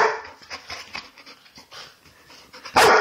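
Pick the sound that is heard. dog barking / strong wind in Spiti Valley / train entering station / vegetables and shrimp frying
dog barking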